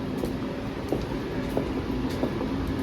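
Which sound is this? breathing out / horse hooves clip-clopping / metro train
metro train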